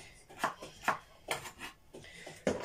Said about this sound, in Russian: Вот сейчас, видите, на мелкие кусочки нарезаю здесь.